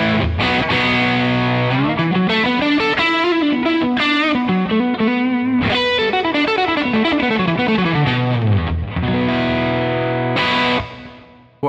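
Electric guitar through a Klon KTR overdrive pedal, played alone as a continuous, loud, gritty driven riff of chords and moving bass notes that fades out at the end.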